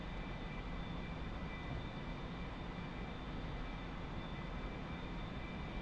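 Fixed-wing airplane engine droning steadily while climbing out after takeoff with gear and flaps up, a continuous loud hum with no talk over it.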